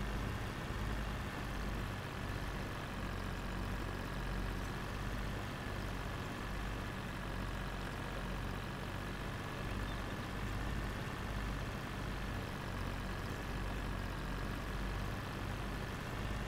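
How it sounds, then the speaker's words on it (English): A small tractor engine runs steadily at a constant low drone on a farm field headland, continuous and unvarying, with no voices. "This little tractor's doing really well."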